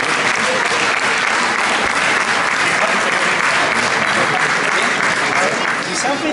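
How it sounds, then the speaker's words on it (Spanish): An audience applauds after a longsword (hand-and-a-half sword) fencing demonstration in Zafra, Spain, sustained loud, dense clapping from a crowd holding steady throughout with a faint voice underneath. "¡Un aplauso!"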